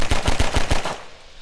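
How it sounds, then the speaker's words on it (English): A Combine Insurrection video game weapon fires five rapid, loud, evenly spaced shots in under a second, then stops abruptly as it overheats, leaving brief fading quiet. "So pretty much at the fastest you can shoot it, you'll get 10 shots off, or excuse me, 9 shots off"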